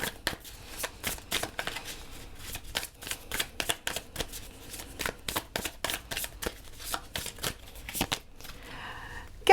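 Light Seers Tarot cards shuffled by hand in a long run of soft rapid flicks and slaps, close and fairly quiet, ending with a brief rustle as cards are drawn.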